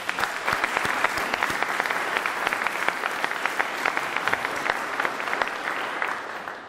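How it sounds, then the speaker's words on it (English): A room of people at a Game and Fish commissioner announcement gives a round of applause, many distinct claps overlapping in a steady, moderately loud patter that continues for several seconds. "Give Steve a round of applause"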